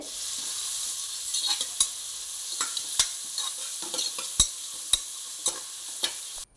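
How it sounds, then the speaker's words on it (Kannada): Chopped onions sizzle in ghee and oil for veg biryani, a steady close frying hiss broken by sharp scraping clicks of a spoon stirring the pan every second or so. "ಈಗ ಒಂದು ಎರಡು ಈರುಳ್ಳಿ ಕಟ್ ಮಾಡಿರೋದು ಹಾಕ್ತಾ ಇದ್ದೇನೆ ತುಪ್ಪ ಕೂಡ ಹಾಕಿದ್ದೇನೆ ಎಣ್ಣೆ ಜೊತೆ"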